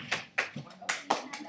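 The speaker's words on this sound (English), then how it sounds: "Hey, you do not need to clap." A child claps hands at home, about six sharp, close claps in an uneven rhythm over a brief moment, fairly faint overall.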